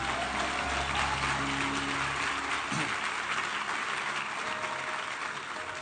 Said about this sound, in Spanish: denle un fuerte aplauso al Rey de Gloria.